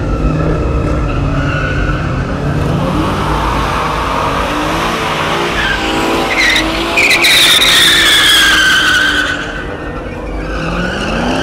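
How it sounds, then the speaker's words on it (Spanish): A car does a tire burnout at a packed quarter-mile drag race in Sinaloa, Mexico: the engine roars and the tires squeal loudly and continuously, rising to a shrill screech before easing off. "aquí va a empezar el Chore a quemar la llanta, según"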